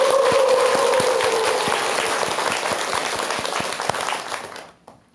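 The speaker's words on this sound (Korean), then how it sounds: "우리의 이현주 선생님께 커다란 박수 한번 주십시오" An audience claps steadily for a singer at a Buddhist hymn broadcast. The applause runs full and even, then thins and dies away toward the end, with a faint sustained tone beneath it early on.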